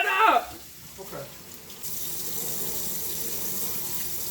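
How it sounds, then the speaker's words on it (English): Tap water running into a sink to rinse dirt off food, a steady close splashing stream that starts after a brief rustle and continues to the end. "You rinse all of that dirt out, and then you cut it."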